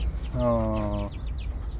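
Chickens being fed cassava, one short drawn-out cluck close by, with faint chirps and soft clucks around it.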